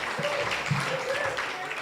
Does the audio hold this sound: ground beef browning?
no